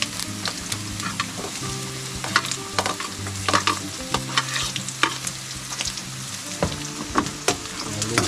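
Garlic frying in a pan while being stirred, a close, continuous sizzle broken by repeated sharp scraping and tapping of a utensil against the pan, no voices.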